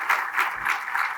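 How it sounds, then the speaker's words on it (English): A conference audience at a future-of-work event applauds a speaker, giving a brief, even burst of clapping with no talk over it. "give a round of applause to Kirti"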